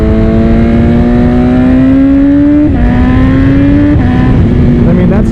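A carbon-bodied BMW M1000RR sport motorcycle engine revving at a quarter throttle, a loud close rising tone that climbs, dips and climbs again in short pulls, with someone talking over it.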